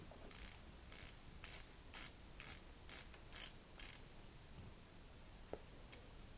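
Bezel on a Seiko Turtle SRPD01K1 "Dawn Grey" dive watch turned by hand, giving a run of about eight crisp ratchet clicks at a steady pace, close and quiet, then one last faint click.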